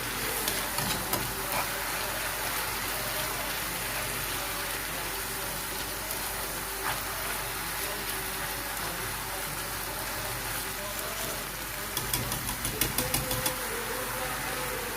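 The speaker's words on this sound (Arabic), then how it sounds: "نخلطو مزيان" Chicken filling for mini tacos, with coriander and parsley, sizzles steadily in a pan while being stirred and mixed, a continuous close frying hiss with light scraping and a brief burst of clinks near the end.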